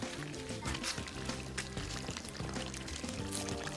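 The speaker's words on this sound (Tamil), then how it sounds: "இந்த தண்ணி விடுக்கிறத பாரு." Water pours steadily outdoors at a village field cooking site, a soft continuous splashing that runs the whole short stretch beneath faint tonal background sounds.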